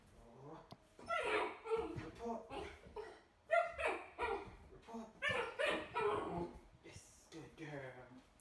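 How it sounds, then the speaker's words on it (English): Close, repeated growls and groans from a Vizsla, building in short bursts that grow somewhat louder, vocal and fairly loud with brief gaps between them. "So at the moment she's growling and groaning, but it's starting to get louder"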